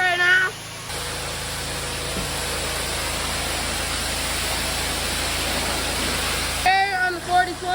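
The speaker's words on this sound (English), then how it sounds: "I just started washing the tanker right now." A steady, loud hiss of water spraying as a manure tanker is washed on a snowy farm, running continuously for several seconds between brief moments of talk at the start and end.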